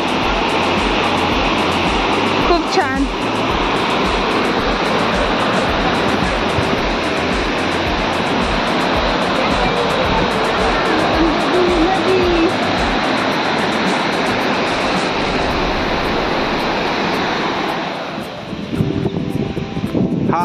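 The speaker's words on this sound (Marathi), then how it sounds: "हा येथील मोठा वॉटरफॉल" A large waterfall at Tamhini Ghat near Pune in the rainy season gives a steady, loud, broadband rushing roar that fills the whole stretch, mixed with wind buffeting the microphone, while a person briefly speaks.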